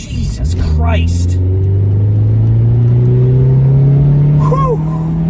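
Honda Prelude engine accelerating hard to race a truck up to speed, a steady rising drone climbing in pitch as revs build, loud and close from inside the car, with a brief bit of road noise and a voice early on.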